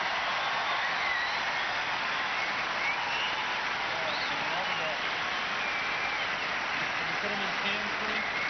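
Steady crowd applause around Wimbledon's Centre Court after a men's semifinal, a broad even wash of clapping heard somewhat distantly and muffled, with a commentator's voice over it.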